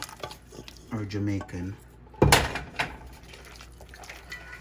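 Oxtail is moved back into a Jamaican cast iron pot with scraping, clinking pot-and-utensil sounds and one sharp, loud clatter midway; a person talks briefly near the start.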